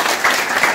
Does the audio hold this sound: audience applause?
yes